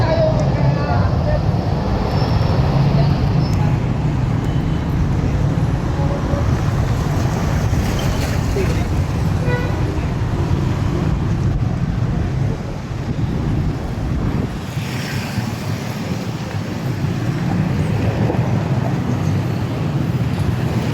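Road traffic passing near a flyover construction site in Barangay Magtuod, a steady broadband rumble of vehicles with wind buffeting the microphone, continuous throughout and loud, with people talking over it.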